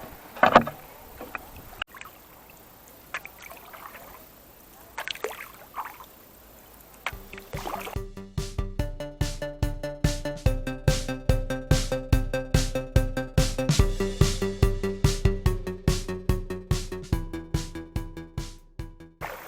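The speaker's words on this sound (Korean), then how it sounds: "배를 타고 한번 가보겠습니다" A two-person canoe paddled solo on the Seomjin River in Sunchang: quiet water and breeze at first, then a steady, rhythmic run of close paddle strokes knocking and splashing.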